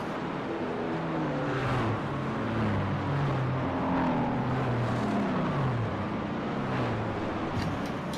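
Race cars lapping in the iRacing sim at Virginia International Raceway during a three-hour ChampCar endurance race, engine tones rising and falling steadily as several cars drive past, continuous and moderately loud with no talk.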